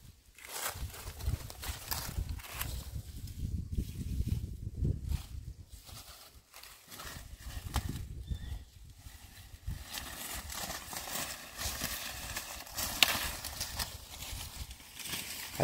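A horse's hooves clip-clop at an unhurried walking pace downhill on rough ground outdoors, steady and fairly close, with brush rustling around them.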